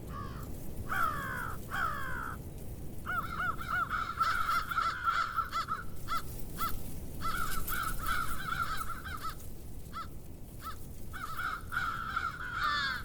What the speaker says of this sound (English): One thing about the crows, they always fill the gaps in between the hawks.